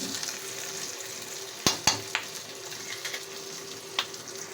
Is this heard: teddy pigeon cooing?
no